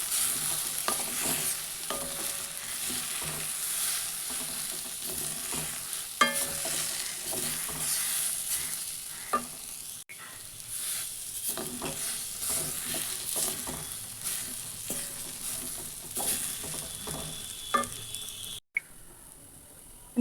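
Coarsely ground makhana stirred in a pan over a very low flame, a continuous dry sizzle with rhythmic scraping and tapping of the spoon, close and steady for a long stretch, no one speaking.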